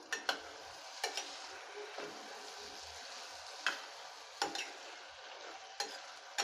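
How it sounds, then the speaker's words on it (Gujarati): Chopped cluster beans stirred into oil and masala in a pressure cooker, a soft sizzle under repeated scrapes and clacks of a spoon on metal at an irregular pace, faint and with no talking. "અને બધું સારી રીતે મિક્સ કરી લેશું"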